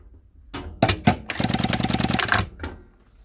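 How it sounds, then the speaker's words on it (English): Garudan GF5131-447 sewing machine running a quick burst of rapid mechanical stitching, then a thread-cutting clack and the presser foot lifting, close and loud with no talk. "The machine will go back forward and will cut the thread and will raise the foot."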